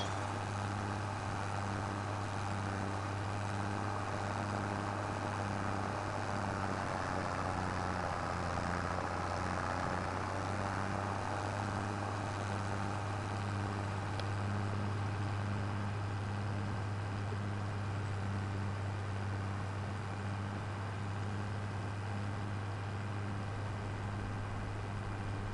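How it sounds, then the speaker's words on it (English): A tractor engine drones steadily in Farming Simulator 25, a low, constant mechanical hum with a faint rhythmic throb holding at even volume throughout, with no voices over it. "This tractor will fit through that door a little bit better."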